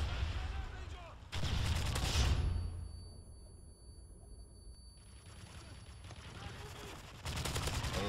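Bursts of automatic gunfire in Modern Warfare 3 multiplayer, loud clusters of rapid shots at the start, middle and end, with quieter game ambience in between.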